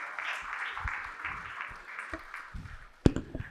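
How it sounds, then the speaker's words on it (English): Audience applause at a panel session, a broad steady wash of many hands clapping that fills the space and swells near the end. "A huge round of applause"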